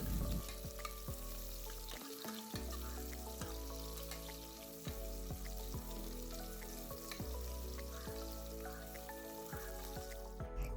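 Half an onion sautéing in hot oil with cinnamon, cardamom and cloves, a steady close sizzle and crackle for several seconds, with no talk, alongside a strong background hum.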